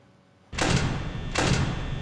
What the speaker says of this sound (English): We got the door shut.